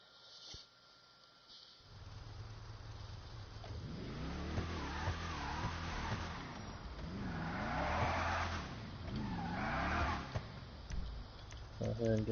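Gauntlet Hellfire muscle car from GTA Online driving and revving, a loud engine drone with rising and falling pitch sweeps that carries steadily, with a voice talking over it.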